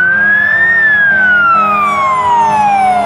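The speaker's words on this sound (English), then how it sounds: "Here comes engine 33 from Brighton." Engine 33, a fire engine from Brighton, wails its siren while responding to structure fires. The siren is loud and close, rising briefly and then sweeping down in a long descending tone, with a truck rumbling underneath.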